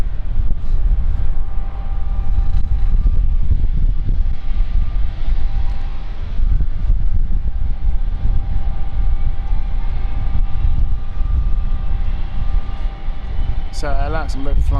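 A jet aircraft engine starts up on a stand at London City Airport, a steady roar holding throughout with a rising whine near the end, and a voice talks over it.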